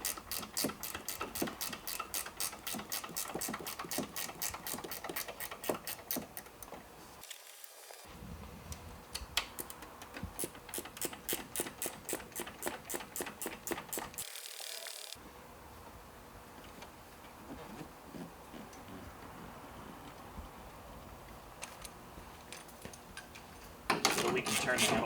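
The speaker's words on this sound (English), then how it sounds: "I just like to use a gear wrench, like a ratcheting wrench." Ratcheting gear wrench backing out 3/8 hex screws on the nacelle of a 2024 Harley-Davidson Road Glide, a steady stream of fast close clicks broken by two short pauses, under occasional speech.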